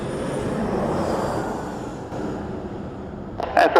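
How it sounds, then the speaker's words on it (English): A SkyWest Embraer jet landing at San Diego gives off a steady, loud broadband roar that swells and eases slightly, ending with a few brief bright noises. "we got a SkyWest Embraer on short final, I believe, from Salt Lake City"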